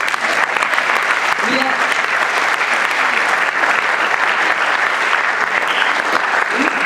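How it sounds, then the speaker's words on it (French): Dense, loud applause from an audience at an opening-night gathering, continuous and even for several seconds with faint voices underneath. "On peut l'applaudir."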